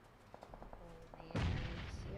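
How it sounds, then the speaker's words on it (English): An explosion in the battle-royale game PUBG Mobile lands as a sudden booming blast with a rumbling tail, following a patter of gunfire heard faintly beneath a commentator's voice. "Oh, that's a beautiful explosion, but the explosion got nothing."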